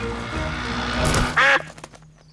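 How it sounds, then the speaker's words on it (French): A cartoon duck gives a short, loud quack near the middle of the scene, standing out over soft background music in a children's animated show. "Pardon, petit canard."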